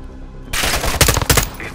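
Loud automatic gunfire from Call of Duty: Modern Warfare II, a sudden dense burst of rapid shots after a quiet start, with sharper cracks standing out near the end.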